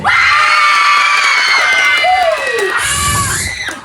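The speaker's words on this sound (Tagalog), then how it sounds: "isa malakas na palakpak at sigawan!" Guests at a first birthday party cheering and yelling loudly, children's shrill shouts and whoops rising and falling together in a close, sustained roar.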